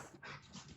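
A dog pants softly and quickly in a quiet room, faint and close, with rapid breathy puffs over a brief moment.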